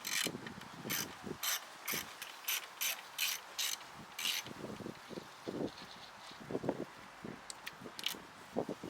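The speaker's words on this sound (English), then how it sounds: "Next, remove the 4 star-bit bolts holding the main grille in place." Star-bit bolts are loosened from the grille of a 1998-2001 Jaguar XJR with a ratchet, giving quick bursts of close, crisp clicking at an irregular pace against a quiet background.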